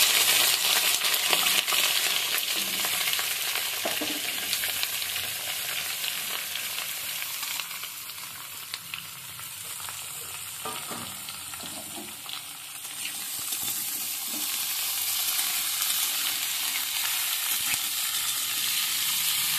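Mixed winter vegetables with potato fry and sizzle in a pan, a loud, continuous hiss broken by the scrape and clatter of stirring, close up with no voices.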